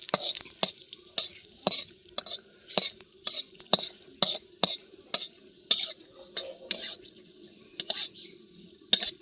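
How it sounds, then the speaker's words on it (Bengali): Dried red chillies frying in mustard oil in a pan, with repeated scraping stir strokes and short bursts of sizzle over a faint steady crackle, close and irregular. "শুকনো লঙ্কাগুলো লাল লাল করে ভেজে নেব।"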